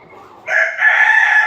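A chicken on a home poultry setup gives a loud, close call, a short lead-in followed by a sustained crowing cry, heard alone with no talk.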